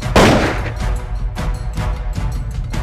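Gunfire in a Vietnamese comedy skit: a loud, sharp opening blast followed by several rougher, clattering bursts at uneven intervals over about three seconds, close and with no talking.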